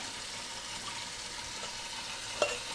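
Rinsed rice is drained from a pot in a kitchen, giving a soft continuous trickle and hiss of water. It is quiet and close, with one brief clink near the end and no speech.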